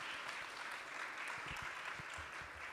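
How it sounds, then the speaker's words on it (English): Audience applause for panelists at a leaders summit session venue, a brief, steady wash of many hands clapping at moderate distance, fairly quiet and even throughout. "Please give a big applause to these great panelists."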